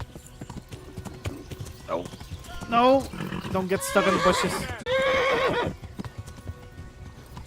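Horse hooves clip-clopping in the medieval video game Kingdom Come: Deliverance, with horse whinnies and someone talking loudly over the steady hoofbeats.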